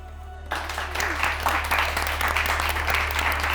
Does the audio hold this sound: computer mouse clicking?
no